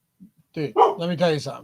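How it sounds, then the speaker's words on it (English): A pet dog gives a couple of short, soft barks from close behind the speaker during a live football fantasy picks show, followed by someone talking over the room. "No, that was my dog, and she was right behind me, and it startled me."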